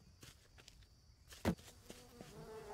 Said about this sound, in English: I can hear flies buzzing